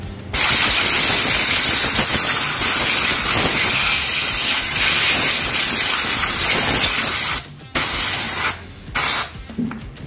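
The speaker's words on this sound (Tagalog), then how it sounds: "Gamit tayo ng compressor." An air compressor blowgun sends a loud, steady hiss of compressed air over an Aerox V2 motorcycle stator being cleaned, running continuously for several seconds before breaking into a few short bursts.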